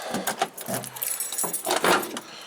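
Keys jingle and clink as they are pulled from a pocket beside a truck, in several bright, irregular bursts up close.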